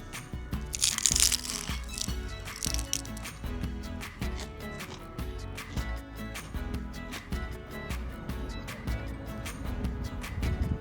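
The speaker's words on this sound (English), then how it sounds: "The pastry is quite crunchy." Crunchy pastel de nata custard tart pastry bitten repeatedly, giving crisp crackling crunches close up in a steady chewing rhythm with no talking.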